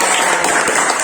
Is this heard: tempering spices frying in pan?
no